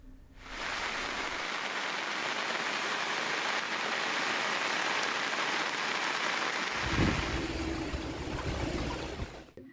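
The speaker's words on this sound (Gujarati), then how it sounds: "અને નવસારી શહેરમાં આજ બપોરથી 3 વાગ્યા સુધીમાં એક 3 કલાકમાં 3 ઇંચથી વધુ વરસાદ ખાબક્યો છે" Heavy monsoon rain pours down over Navsari city in Gujarat, a dense, continuous roaring hiss that stays loud and steady from start to finish, with no voices.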